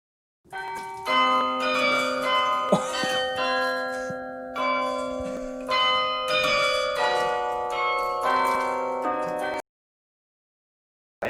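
Large tower bell struck repeatedly, loud ringing strokes with long sustained metallic overtones that overlap and swell, each strike renewing the hum before a sudden stop.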